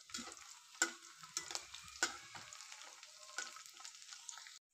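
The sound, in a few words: kurkure frying in oil while stirred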